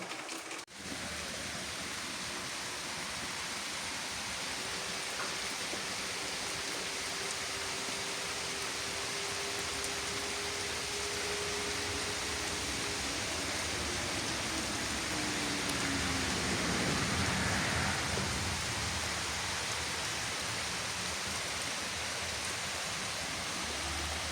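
Steady rain falling, a dense even hiss that continues without a break, with a faint low hum passing partway through.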